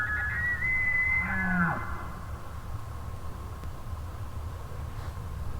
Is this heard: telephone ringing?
no